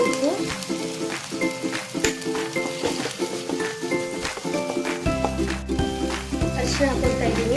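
Tomato and salt sizzling in a frying pan for a sprouted field-bean palya, a steady close crackle with faint stirring scrapes under a voice.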